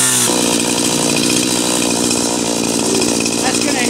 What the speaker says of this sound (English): Mike did let me play with a chainsaw.